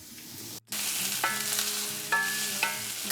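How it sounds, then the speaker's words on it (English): Chopped leeks fry in olive oil in a frying pan, giving a steady soft sizzle with a few brief scraping stirs near the start and middle, close and with no talking. "We're adding some leeks into a frying pan with olive oil."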